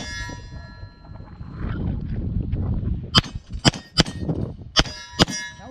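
Bullets striking a steel target at an outdoor firing range, with five or six sharp metallic dings in an uneven rhythm, each ringing briefly over a low rumble of background noise.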